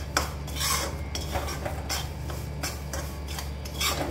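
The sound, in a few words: gram flour being roasted and stirred in a pan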